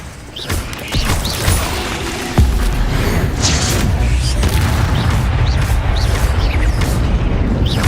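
Expelliarmus spell cast in Hogwarts Legacy: a loud magical boom and crackling burst, followed by a sustained rumbling blast over several seconds.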